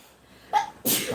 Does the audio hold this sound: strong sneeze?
yes